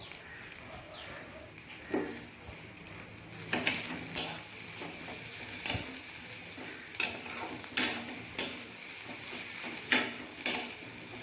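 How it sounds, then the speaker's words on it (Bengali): Fish roe with chili powder and chopped tomato being stirred in a sizzling pan, a spatula scraping and clattering in irregular strokes over a steady low fry, close and fairly quiet, no talk. "এবার এই সব কিছু আরও একবার ভালো করে মিশিয়ে নিচ্ছি"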